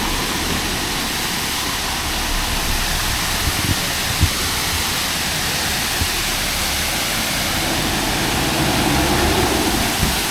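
A waterfall in misty, rainy hill country at Kuttikkanam roars as a steady, loud, broadband rush that stays even throughout, with no talk.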